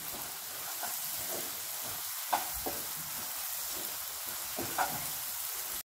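Moong dal roasts in ghee in a pan, giving a quiet, steady sizzle broken by a few light scraping taps as it is stirred, with no voices.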